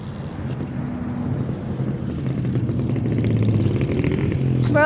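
A damaged dirt bike engine after a wreck runs nearby in a rough, steady drone with wind buffeting and clattering underneath, growing slightly louder over several seconds, with no speech.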